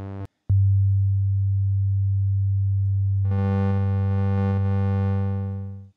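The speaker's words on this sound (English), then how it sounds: "You can hear that there's quite a variety of sound just from a single oscillator." A single oscillator on the Audio Damage Continua synthesizer drones as a loud, steady low tone after a short blip, then brightens into a buzzier, harmonic-rich timbre before fading out at the end.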